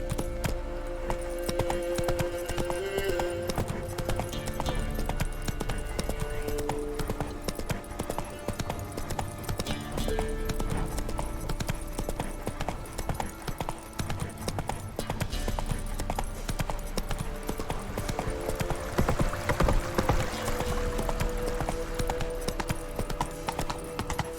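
Hooves of the horse Roach trotting in The Witcher 3 video game, a continuous rhythmic clip-clop of steady footfalls with game ambience underneath and no talking.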